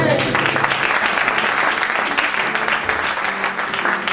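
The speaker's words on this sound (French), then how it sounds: "Est-ce qu'on peut acclamer très fort?" Loud church congregation applause and cheering during a sermon, sustained and dense for the whole stretch with crowd voices mixed in.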